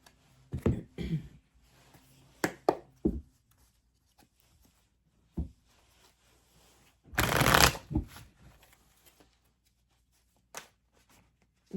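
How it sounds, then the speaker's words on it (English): Tarot cards are shuffled in short bursts: several quick riffles and taps, then one longer riffle, with quiet gaps and soft clicks between. "detailed Celtic cross today"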